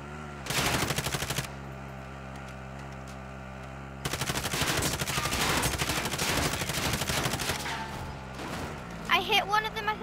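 Rapid machine-gun bursts rattle loudly during a car chase in a video game, two long sustained volleys separated by a pause, with a player shouting over the end.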